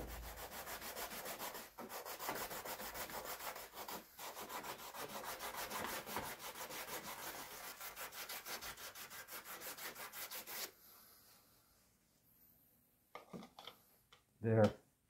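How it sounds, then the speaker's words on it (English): Steady hand sanding of a solar filter holder for a Baader D-ERF filter, a continuous rubbing rasp lasting about ten seconds, then quiet with a few faint knocks and a short final bump. "just needs to be sanded up a little bit so it drops down in there"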